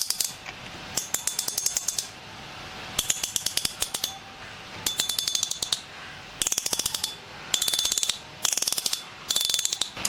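Fidget spinner fitted with a 0.25 gold-plated spring and high oxidation beads, giving bursts of rapid, bright ratcheting clicks that start and stop in repeated spins, loud and close with brief pauses between.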